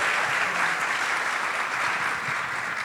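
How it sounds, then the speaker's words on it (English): A dense burst of audience applause at a talk about a documentary filmmaker, continuous and steady clapping throughout with no speech over it. "that definitely deserves a clap"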